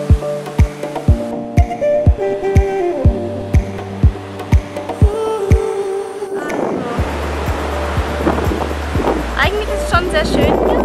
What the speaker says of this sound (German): Also, wir sind auf jeden Fall am Strand. Hat schon ordentliche Wellen